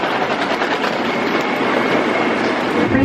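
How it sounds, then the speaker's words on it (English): A Pittsburgh airport people-mover transit train pulls away from the landside terminal, giving a loud, steady rumble of wheels on track throughout, with no talking. "This transit is departing from the landside terminal."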